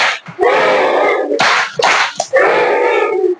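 Children in a classroom clap out a crying clap rhythm, striking their hands in loud, slapping bursts under their own sustained chanted voices.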